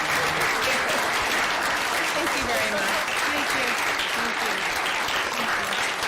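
Sustained round of applause from the audience at a Fair Lawn council meeting, dense steady clapping filling the room for about six seconds, with voices faintly audible underneath.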